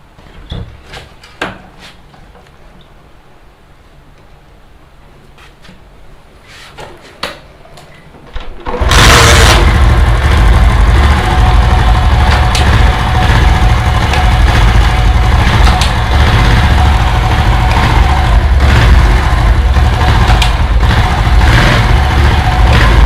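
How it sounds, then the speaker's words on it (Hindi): After some quiet clicks and handling sounds, a Honda CD 70 motorcycle engine fires up abruptly and keeps running loudly and steadily, close by. "तो मैं अपनी बाइक को अब स्टार्ट करूँगा"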